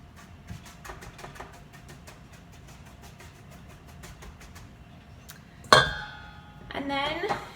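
Seasoned crickets tipped onto a metal baking pan: a sharp clatter and rattle stands out after a stretch of quiet kitchen ambience, followed by a second burst of scraping, clinking contact near the end.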